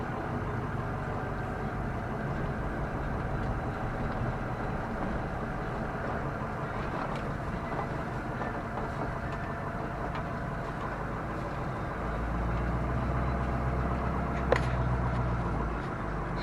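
A truck hauls a dump trailer with a steady low engine drone that rumbles continuously, nearby and moderately loud, deepening and growing heavier toward the end.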